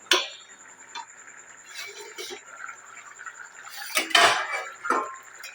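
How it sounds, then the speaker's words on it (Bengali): Metal lid lifted off a cooking pot during stovetop cooking, with sharp clinks and scrapes of cookware spread across the clip and a louder clatter near the end, faint background hum between. "এবার আমি ঢাকনাটা খুলে দেখব।"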